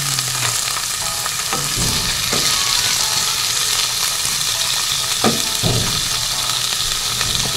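Sliced boiled chicken breast drops into a hot oiled pan, a loud, close, steady sizzle with several sharp clattering stirs and scrapes of a utensil against the pan.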